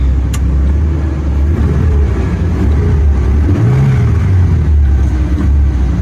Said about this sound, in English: Let's do a quick throttle test.